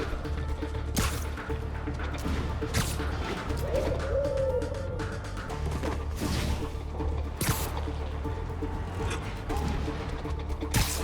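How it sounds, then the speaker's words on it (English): A pigeon coos and flutters in the Marvel's Spider-Man video game, a soft warbling call low in a busy city-ambience mix, with occasional sharp thuds and impacts. "Pigeon target acquired."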